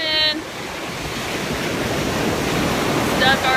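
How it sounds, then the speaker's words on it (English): Ocean surf at Acadia National Park roars as a steady, broad wash of crashing waves with wind buffeting the microphone, loud and close, with brief faint voices at the start and end. "Here's the ocean."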